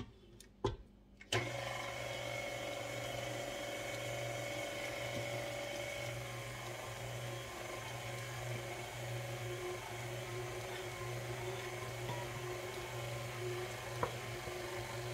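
An electric mixer mixing all-purpose flour into malt chocolate chip cookie dough: a steady mechanical whir and hum that starts after a few brief clicks and runs on evenly, with no talking.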